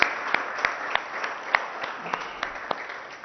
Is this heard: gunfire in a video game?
no